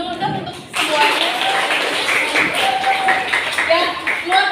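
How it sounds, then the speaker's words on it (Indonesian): A group of schoolchildren in a classroom claps hands together, a dense, steady patter of applause lasting several seconds, with a few voices mixed in. "Coba ibu ingin kalian tepuk tangan dulu dong untuk semuanya."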